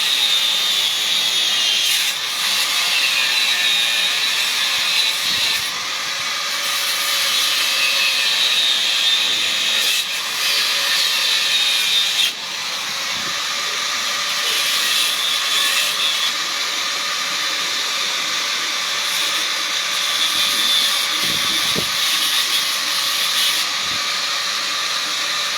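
Welding work runs nearby as a loud, continuous hissing crackle that carries on throughout, with a brief dip midway.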